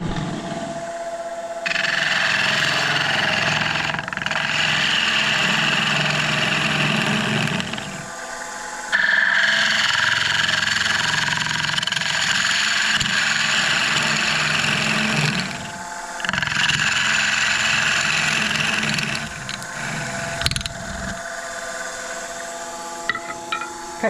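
A bowl gouge cuts a Douglas fir bowl spinning on a wood lathe, giving a loud, sustained rough roar in long passes separated by short pauses, alone without talk.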